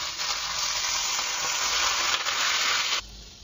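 Bottle gourd peels roasting in mustard oil on a tawa, a loud, continuous close-up sizzle that drops away sharply near the end, no voices.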